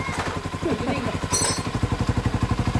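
Converted 200cc motorcycle engine idling smoothly, an even rapid putter that grows more regular toward the end, close and loud, with a voice briefly over it.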